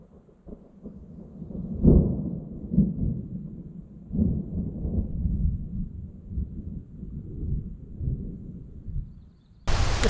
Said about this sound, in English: we're gonna have a nice little thunderstorm